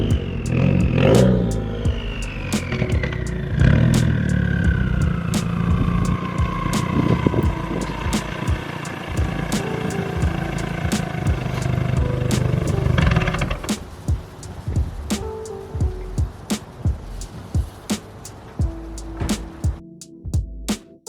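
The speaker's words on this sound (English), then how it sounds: "You can definitely hear the turbo whistle much more out the back of the exhaust." A Subaru WRX with a loud aftermarket exhaust winds down from a high-revving whine with turbo whistle into a throbbing idle, followed by a string of sharp pops and crackles near the end.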